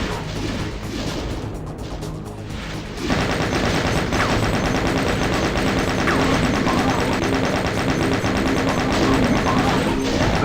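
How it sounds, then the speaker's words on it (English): Mancubi in Doom unleash loud, sustained barrages of heavy fire, a dense roar of blasts and impacts kicking in after a quieter opening and continuing steadily to the end. "you will see the Mancubi at the last moment when they are already firing on you"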